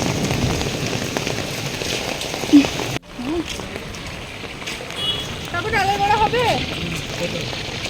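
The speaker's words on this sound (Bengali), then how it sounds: "এত বাজ আর অঝরে বৃষ্টি প্রচণ্ড পরিমাণে বৃষ্টি চলছে" Heavy, steady rain drums on surfaces during a downpour with thunder near a shuttered snack stall, a continuous close hiss with a short sharp crack partway through, while people talk nearby.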